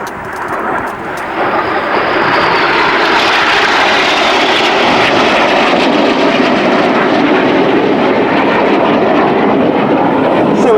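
Red Arrows jets fly the Jippo pass manoeuvre at a 2001 display, a loud continuous jet roar that swells within the first two seconds and holds steady overhead.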